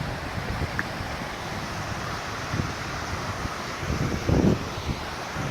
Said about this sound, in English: I love the sound of running water like this